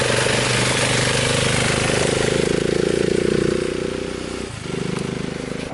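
A motorcycle passes on a training run, its loud rasping engine note swelling and then falling away as it goes by, with a brief dip and a rise again near the end.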